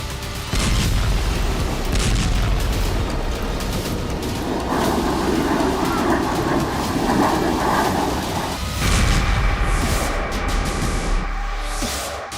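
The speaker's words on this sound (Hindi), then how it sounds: "वीडियो एक ऐसी बमबारी का है जो अर्दवान के लड़ाकों को ताकत देगी।" Bombing in Syria produces a heavy, continuous rumbling roar of blasts and booming, loud and sustained, with a sudden shift in texture partway through and no speech.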